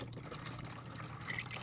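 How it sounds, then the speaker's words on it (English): Antifreeze coolant concentrate pours into a plastic bottle with a soft, steady liquid rush and faint trickling, quiet and close with no talking. "let's pour it in our 50-50 bottle"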